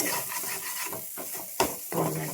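Spices with salt, black mustard and a little turmeric are sautéed for a taro-paste curry, with rhythmic scraping strokes of a spatula over a soft, continuous sizzle and one sharp knock partway through. No voices are heard.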